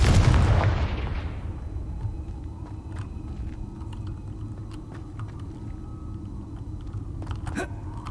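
The Confringo spell explodes in the game Hogwarts Legacy with a single loud, boomy blast at the very start, then a long fading tail over quiet game ambience with a few small clicks.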